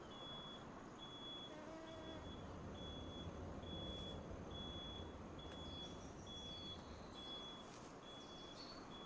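Truck reversing beeps drift in through an open window, a steady evenly spaced series of high tones held over a dense, loud background rumble, with no talk.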